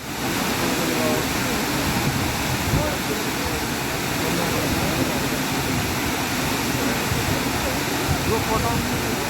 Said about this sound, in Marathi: आम्ही पोचलो आहे धबधब्याकडे, अब्बी धबधबा. आणि हा जो धबधबा आहे बघा, फुल फ्लोमध्ये वाहतो आहे आता.